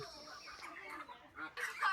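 Broiler chickens on a poultry farm being sold and loaded for transport give a few faint, scattered clucks against quiet background noise.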